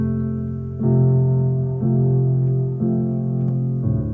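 Piano chords are played alone with no melody on top, a new chord sounding about once per second in a steady accompaniment pattern.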